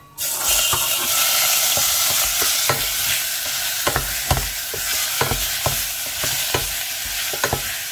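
Beef and garlic fry in olive oil in a pan, giving a steady loud sizzle with sharp spatula scrapes and taps at irregular intervals, close up and with no talking.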